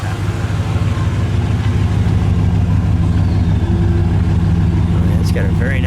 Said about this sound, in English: Let me hear that exhaust.